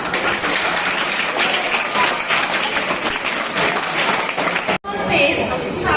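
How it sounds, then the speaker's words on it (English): Audience applause at a school World Environment Day event, steady dense clapping for about five seconds that cuts off briefly, then resumes with voices over it. "Please give a huge round of applause for Savitri House."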